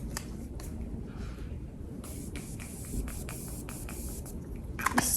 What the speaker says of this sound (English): Let me just finish it up with some setting spray. This Jeffree Star X Morphe setting spray.